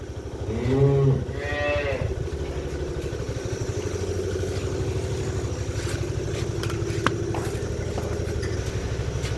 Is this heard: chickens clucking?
no